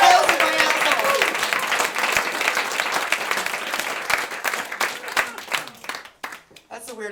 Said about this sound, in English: That's the weirdest applause break I've ever gotten